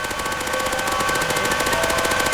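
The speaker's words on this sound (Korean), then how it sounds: "미니건 발사." Rapid minigun fire from the Roblox game Mad City, a continuous dense stream of shots rattling at an even fast rhythm, loud and steady throughout with no talking.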